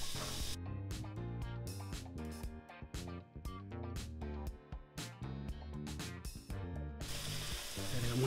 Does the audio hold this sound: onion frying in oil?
yes